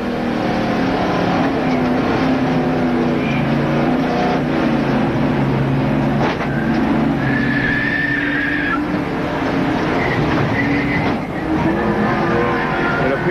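In-car audio from a NASCAR stock car during a crash at Talladega in the 1987 Winston 500: a loud, continuous engine roar with tire noise and harsh impacts partway through, close and dominant throughout.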